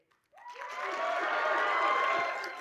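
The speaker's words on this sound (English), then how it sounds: "may we please have a level 3 applause, whistles and ululating to build up the excitement" An audience at a conference opening bursts into sustained applause and cheering, a wash of clapping and voices rising sharply and holding steady, with a high whistle or ululating tone running through it.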